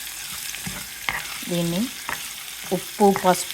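Potatoes and beans sizzle steadily in a pan while being stirred, a soft continuous frying hiss with scraping stir sounds, under someone speaking.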